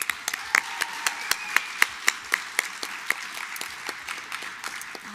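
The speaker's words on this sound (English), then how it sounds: "Let's give them one more huge round of applause." Audience applause at an evening pageant crowning Miss Washington County and Miss Greater Zion, steady moderate clapping with sharp individual claps standing out, continuing for several seconds.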